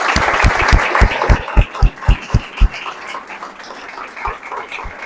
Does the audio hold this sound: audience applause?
yes